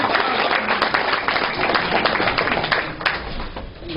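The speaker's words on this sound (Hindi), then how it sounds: "जोरदार तालियां भाई" An audience at a Hindi poetry recitation claps loudly and steadily as a dense crowd wash that holds throughout and eases slightly at the end.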